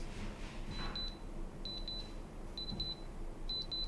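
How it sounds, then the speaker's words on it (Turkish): Faint, high electronic beeps from an Anker R50i wireless earbud's find-device alert repeat in short clusters of three or four, evenly spaced against a quiet hiss. "Ses seviyesi uyarısı yüksek desibelde bir bip sesi duyulacaktır"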